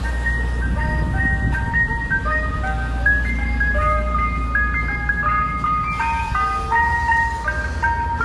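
An ice cream truck plays its tinkling electronic jingle outdoors, a bright repeating melody over the loud low rumble of the idling vehicle engine.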